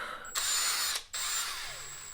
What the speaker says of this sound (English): I wind them in most of the way with the drill,